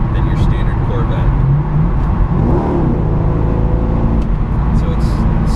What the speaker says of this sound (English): an exhaust note that's much louder than your standard Corvette